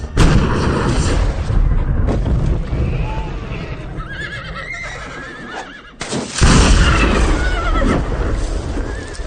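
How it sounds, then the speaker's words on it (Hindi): Cannon fire in a period action film scene, heavy booms breaking out amid horse neighs and whinnies, loud and dense with a sharp burst near the middle and a dialogue voice underneath. "इन तोपों की मार बहुत ही खतरनाक है।"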